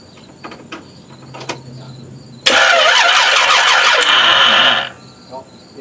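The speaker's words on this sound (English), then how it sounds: "So we're gonna go ahead and crank it now." A car engine cranks on its starter after a block is drilled and tapped for a 153 tooth starter: a loud, rapid whirring churn begins abruptly and runs for about two and a half seconds, then cuts off, with quiet clicks before it.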